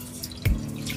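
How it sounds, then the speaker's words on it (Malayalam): Water poured into a cooking pot set on a stove, a short splashing burst mid-clip with drips and light trickling around it, close and fairly quiet, no voices. "നമുക്ക് അതിലേക്ക് നമ്മൾ എടുത്തു വെച്ചിരിക്കുന്ന വെള്ളം ഒഴിച്ചു കൊടുക്കാം"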